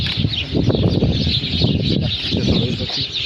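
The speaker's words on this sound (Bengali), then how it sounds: "এই সেই চড়ুই পাখি, এখানে অনেক চড়ুই পাখি।" Many house sparrows chatter together in a tree inside a park-like camp, a dense, continuous wash of overlapping chirps that stays loud and close throughout.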